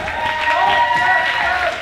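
Wrestling crowd at a live show reacting to a near-fall two count, a brief swell of cheering and clapping with a commentator's voice running over it.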